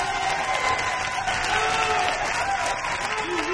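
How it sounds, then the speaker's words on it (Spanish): A concert audience claps to vote for the woodwind section, dense, even applause from a crowd with a few faint voices mixed in. "Aplausos para las maderas."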